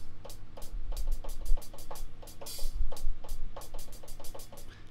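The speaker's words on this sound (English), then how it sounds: "Next we're gonna look at the hi-hat, and that sounds like this" Closed hi-hat voiced on a keyboard drum patch, ticking in a steady quick rhythm of short crisp bright hits over a low sustained backing, with one or two slightly longer open-sounding splashes, alone without talk.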